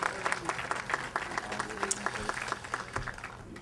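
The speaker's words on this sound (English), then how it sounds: "let's once again give a round of applause for Jim Bob Humphrey and all he does for us" An outdoor crowd at a Veterans Day ceremony claps in a brisk, dense burst of applause that holds steady for a few seconds.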